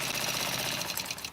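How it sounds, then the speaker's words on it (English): A quilting sewing machine runs its tacking stitches in a brief, quiet burst of rapid mechanical clatter. "I wanted you all to see that the machine does its own tacking stitches."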